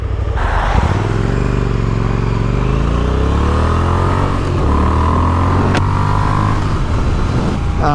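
A motorcycle with a broken lower frame cradle is ridden, its engine loud and close throughout, the note rising through the revs, dropping at a gear change and climbing again under steady wind noise.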